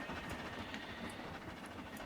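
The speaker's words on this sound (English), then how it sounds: "Freight train coming along. That is a long freight train." A long freight train passes in Trainz Railroad Simulator 2019, hauled by a small engine on a Cornish main line, heard as a faint, steady rolling rumble with soft rail clatter throughout.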